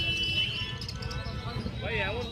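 Caged lovebirds and budgerigars chirp in short, high tweets at a busy bird market in Garia, the calls fairly faint beneath ongoing speech and crowd noise.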